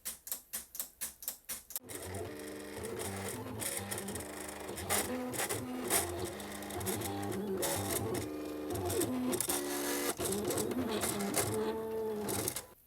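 A Silhouette Cameo cutting machine slices carbon fiber heat transfer vinyl. It opens with a rapid series of regular mechanical ticks, then keeps up a steady whirring, buzzing motor drone with shifting tones, close and alone.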